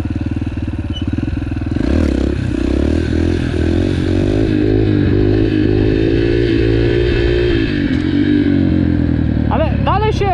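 A loud motorcycle engine drones continuously up close as the rider practices wheelies, with steady engine harmonics, pitch shifts as the throttle changes, and a brief rev rise near the end; no talk over it.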